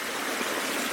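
Mountain stream in a Kazakhstan field used as a washbasin, flowing with a steady, soft, bright rush of water, close and unbroken, no voices.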